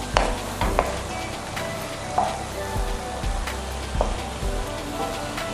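Gyoza filling fries over high heat in a hot pan, giving a steady close sizzle with repeated stirring clatters and scrapes throughout, with no talking.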